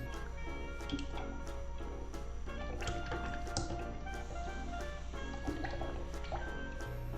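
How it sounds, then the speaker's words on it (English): Thick homemade syrup pours into a cocktail glass with soft drips and a gentle trickling fill, quiet and close, with no voices. "that was more of a fat pour than I was expecting"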